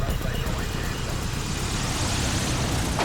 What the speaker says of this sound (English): The aircraft finally makes its landing approach, with the pilot slowing to almost stalling speed to get the plane onto the runway as gently as possible.